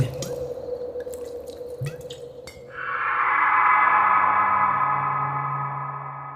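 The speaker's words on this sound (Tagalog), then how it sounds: "Nagsali ng tubig si Aris mula sa pitchel na nasa tukador" A few scattered drips lead into a steady, close pour of water from a pitcher filling a glass, an audio drama sound effect that fades gradually at the end.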